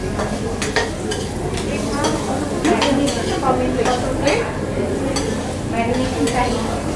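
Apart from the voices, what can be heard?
mixing marinade with white vinegar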